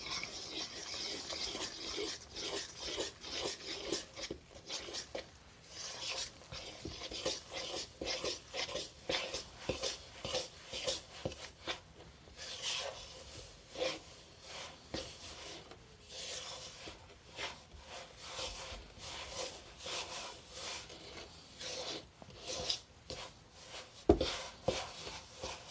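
Flour and water stirred together by hand for a no-knead bread dough, a long stretch of uneven scraping and rubbing strokes in a bowl, close and unbroken, with no voice.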